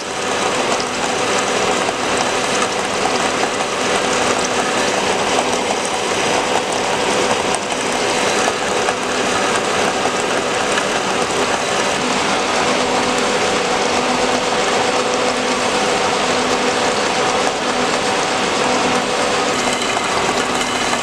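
A metal-cutting bandsaw slowly machining steel tracking plates at 50 RPM with a slow feed, a continuous dense grinding and whirring drone with faint ratcheting texture, steady and loud throughout with no talk.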